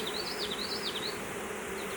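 Honey bees drone steadily around an open hive colony, a close, continuous buzzing with wavering pitch as individual bees fly past the listener.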